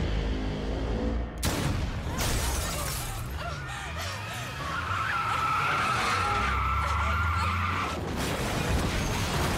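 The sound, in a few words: car skidding and crashing in a film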